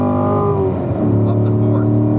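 A car engine rises under full throttle on a track lap, a loud, steady in-car drone with harmonics climbing as it pulls, heard close and continuous.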